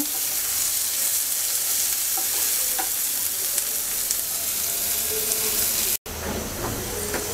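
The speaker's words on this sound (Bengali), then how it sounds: "পেঁয়াজটাকে হালকা ব্রাউন কালার করে ভেজে নেব।" About a cup of chopped onion sizzles and fries in hot oil in a pan, a steady close crackling hiss with occasional stirring scrapes and a brief cut near the end.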